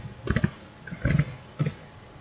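Typing on a computer keyboard in three short bursts of close, crisp key clicks separated by brief pauses, alone with no talking.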